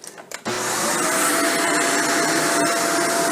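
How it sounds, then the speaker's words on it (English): A Shark Vertex vacuum cleaner switches on and runs steadily on low pile carpet, a loud, constant motor whine with a faint tonal hum that holds after a short click at start. "I'm going to turn the vacuum on and move it around a little bit"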